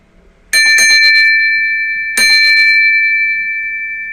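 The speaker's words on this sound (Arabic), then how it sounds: "تعالى يا سيدي نوري الرجاله صوت الجريزه" Two bright, loud strikes of a horse-carriage bell about a second and a half apart, each ringing out with a long, slowly fading metallic tone.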